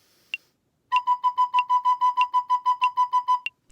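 Sixteenth notes on a recorder: a fast, even stream of about sixteen short tones played twice as quickly as eighth notes, bright, close and unaccompanied.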